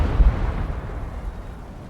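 A tank gun shot lands on its target in a World War II strategy battle game, a single low, rumbling explosion burst at the start that decays into a dull, sustained roar.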